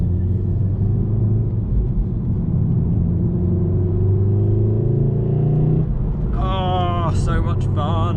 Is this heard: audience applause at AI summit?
no